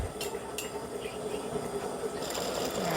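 An embroidery machine satin stitching a hat design runs at a steady, rapid mechanical whir with fast rhythmic needle clatter, continuous and close with no talking.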